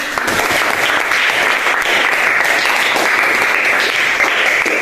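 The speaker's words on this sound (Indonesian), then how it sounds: "Clap hands, tepuk tangan." A classroom of students claps together in a dense, sustained burst of applause that fills the room at a steady level with no talk over it.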